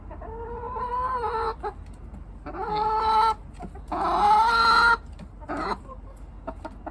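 A backyard town hen calls loudly and close by in drawn-out, rising squawks, three longer bursts with short clucks between, no talk over them.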